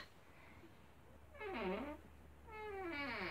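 A house cat meows twice indoors, close and fairly loud, with a long rising-falling cry followed about a second later by a second drawn-out meow over a quiet room hum.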